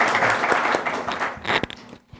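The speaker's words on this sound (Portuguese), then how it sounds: "palmas para os nossos voluntários aqui, por favor" An audience at a talk on horse riding and training claps for volunteers; the close, fairly loud applause thins into a few scattered claps and then fades to near silence.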